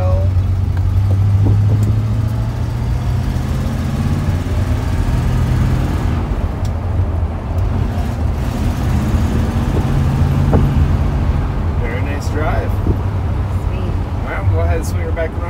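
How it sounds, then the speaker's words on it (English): A 1966 Ford Mustang with a 4-speed manual drives along, its engine droning steadily with gear shifts and a low rumble, heard from inside the car with a voice talking at times. "got the Mustang here, 4-speed, shifting really nicely"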